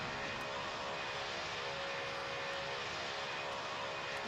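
A small airplane takes off down a long runway with a tailwind and a little crosswind, its engine roaring as a steady, loud, unbroken wash of noise with no talking.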